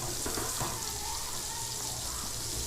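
Ingredients for chicken biryani sizzle and fry steadily in a pan, a continuous close hiss with occasional stirring clatter and no pauses.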